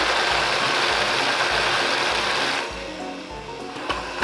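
A blender strains through a thick artichoke spinach dip, a loud steady motor whir with a rhythmic labouring pulse, dropping in pitch partway through as it bogs down.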